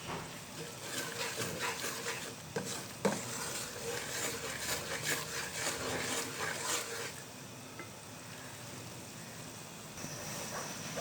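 Semolina halwa being stirred in oil in a pan, a steady scraping and sizzling texture that runs throughout with no pause and stays fairly even in level.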